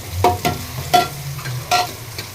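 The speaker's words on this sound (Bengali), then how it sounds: "এইদিকে আমি পেঁয়াজটা একটু ভাজা ভাজা করতেছি" Onion frying in a pan, with a steady low sizzle broken by several sharp stirring scrapes and clatters at close range, no voices.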